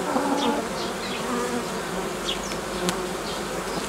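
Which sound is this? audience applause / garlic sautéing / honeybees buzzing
honeybees buzzing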